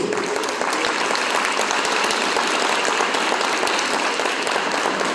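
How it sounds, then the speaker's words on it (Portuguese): Congregation at an evangelical church service applauding after a sermon reading, a loud, dense, continuous burst of many hands clapping throughout. "Vamos aplaudir a palavra de Deus"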